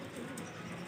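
Breeder pigeons cooing on a rooftop, a soft continuous low murmur close by for under a second, with no voices.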